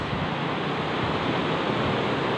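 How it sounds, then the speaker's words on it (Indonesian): Ocean surf at Selong Belanak beach on Lombok, a loud, continuous broadband wash of breaking waves with no pauses. "pantai indahnya seperti ini guys"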